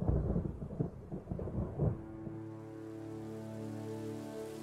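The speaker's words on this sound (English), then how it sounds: "Oh, and that's thunder. That is loud." Rolling thunder rumbles loudly through a stormy autumn night scene in the 2D Viking platformer Unsung Warriors, several heavy cracks over about two seconds before easing into a steady, sustained tonal drone.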